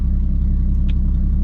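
A Jeep tows a trailer on a test drive, its engine giving a steady, close, low rumble throughout with a faint brief rattle partway through.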